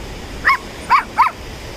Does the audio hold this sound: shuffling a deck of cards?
no